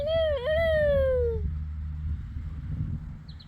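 A bird calls once, a clear, fairly loud descending whistle-like cry lasting about a second and a half, with low outdoor rumble continuing beneath and after it.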